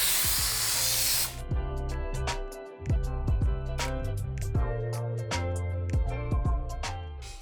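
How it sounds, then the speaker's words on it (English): A short burst of 3M aerosol auto adhesive spray hisses onto fabric, then stops, followed by light clicking and tapping sounds nearby. "It's some 3M aerosol auto adhesive."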